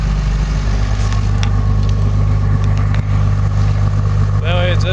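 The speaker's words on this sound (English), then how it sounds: "Now that's one cold start. Man, she's still up at high idle." Cummins diesel engine running at high idle just after a cold start, a loud, steady, close drone that holds throughout, with a brief faint whine near the end.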